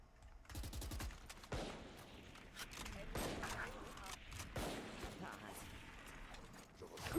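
Bursts of gunfire in a Valorant match ring out in rapid, overlapping volleys with sharp cracks and mechanical clatter, mixed with other game sounds and voices.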